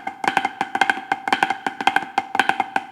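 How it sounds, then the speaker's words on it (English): A close snare drum works through the cheese rudiment, rapid flammed strokes with buzzed diddles in dense clusters, bright and steady throughout, with no other sounds. "Or maybe your cheeses sound like this?"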